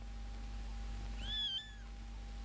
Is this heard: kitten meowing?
yes